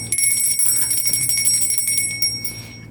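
A bright electronic bell chime rings steadily with sustained high tones over a faint background, close and clear, no voices.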